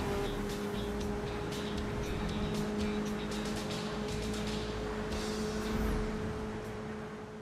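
Cars in a racing video game with a traffic mod drone past with a steady engine hum, under scattered clicks and faint tire noise, all at low volume with no talking.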